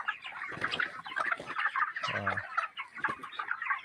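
Broiler chickens in a cage farm in Assam cluck and murmur close by, a busy overlapping chorus of short calls with one louder, lower squawk partway through.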